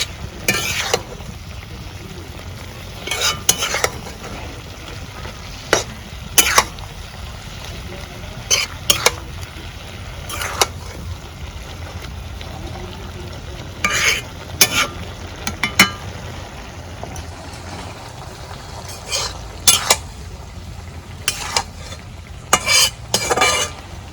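Freshly picked garden greens curry being stirred in a frying pan, a spoon scraping and clinking against the metal in repeated bursts over a steady low sizzle, close and fairly loud throughout.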